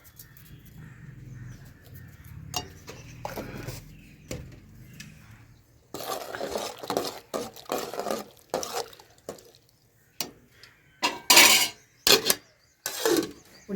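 Sweet corn cobs boiling in salted, spiced water in a pot over a high flame: close, irregular bubbling and popping bursts, quiet at first and then busier and louder.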